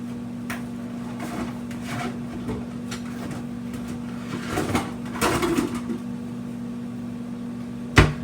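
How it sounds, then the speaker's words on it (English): A steady low electric hum runs throughout, the drone of a microwave oven, with scattered clicks and light handling noises and a sharp knock near the end. "Put that in the microwave, get that going."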